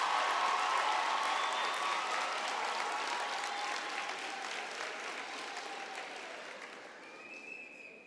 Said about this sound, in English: give them a round of applause for all the support that they've given you